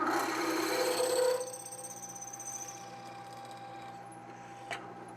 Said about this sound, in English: This is a solid carbide drill bit.